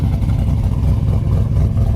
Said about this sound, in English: It sounds good. The exhaust sounds excellent.